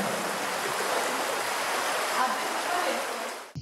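Icy water rushing through Holta canyon in Albania, a steady broadband stream roar that stays constant and fairly close, with no voices, cutting off abruptly at the end.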